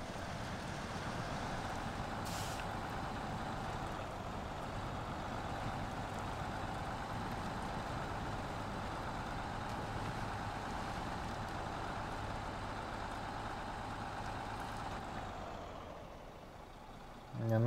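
A heavy truck drives steadily in the video game SnowRunner, its low engine drone holding at a constant level, with a brief hiss near the start that fits an air brake.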